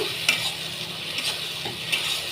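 Green chilli and ginger paste stirred in a hot pan for a chickpea and taro-leaf dish, with a constant close sizzle and a few soft spoon scrapes and taps.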